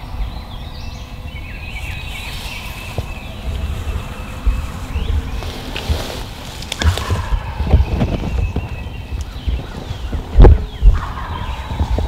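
A wild turkey gobbles repeatedly from about 25 yards away near a river, rattling bursts rising above a rustling outdoor background with some scattered thumps.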